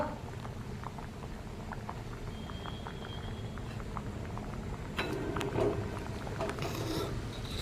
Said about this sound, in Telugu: చూసారా చిగురు వేసాక ఎంత బాగా ఉడుకుతా ఉందో